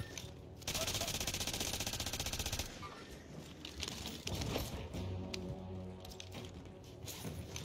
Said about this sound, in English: I'm running with an LMG